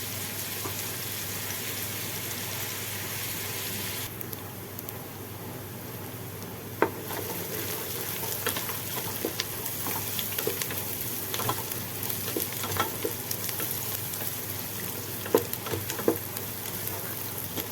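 Onions sautéing in a pan for mushroom biryani, a continuous dense hiss of frying with faint scattered stirring clicks and a few light knocks, steady and close, with no one talking.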